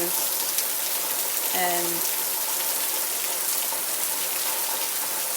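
Steady rain pours down in a broad, even hiss that fills the whole stretch, with a brief tonal bleep near the start and a person speaking briefly over it.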